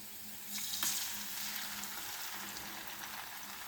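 An egg dropped into a hot pan sizzles and fries for egg Maggi, a steady crackling hiss that swells as it lands and then holds evenly, with no talking.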